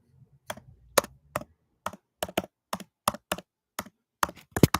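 Keys tapped on a computer keyboard, close and fairly quiet, in an irregular series of about a dozen distinct clicks with short pauses between bursts, no talking over it.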